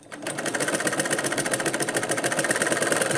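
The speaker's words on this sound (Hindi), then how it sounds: "चलिए सिलते हैं इसको आगे।" A sewing machine stitches a blouse sleeve in a steady, fast mechanical whir with rhythmic needle pulses, close and continuous after a brief start, with no talk.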